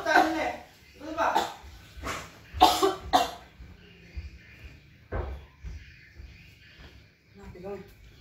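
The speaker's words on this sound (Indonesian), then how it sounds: "Batuk." Harsh bursts of coughing come close up in a room, several separate coughs spaced a second or so apart, with quieter murmured voices and faint movement in between.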